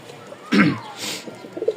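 A flying-breed pigeon gives a single close, throaty coo with a rising-falling tone, followed by softer rustling and faint chirps.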